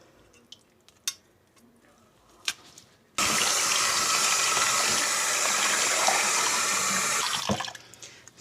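Running water from a sink tap gushes loudly and steadily for several seconds as oxtail is washed with water and vinegar, preceded by a few faint clinks and handling noises and ending as the flow is shut off.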